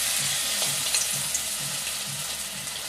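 Battered drumstick leaves, the batter for pakoras, drop into hot white oil in a kadai and fry with a steady, close, bubbling sizzle and no talk.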